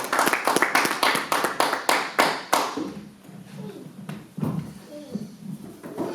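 Church congregation clapping and cheering loudly for the Lord during a service, a dense run of rhythmic claps for about three seconds, then thinning into scattered claps, murmurs and voices.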